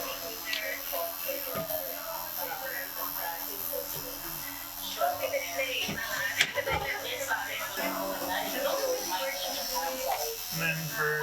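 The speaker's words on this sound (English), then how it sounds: "I have this foil machine for shading" A tattoo foil machine used for stipple shading buzzes steadily at low volume with a faint electric hum, while people talk over it in a tattoo studio.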